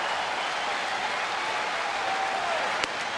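The Fenway Park crowd claps and cheers steadily to urge on Boston reliever Craig Breslow with the bases loaded in the sixth inning, a broad, sustained roar of applause from a large stadium audience.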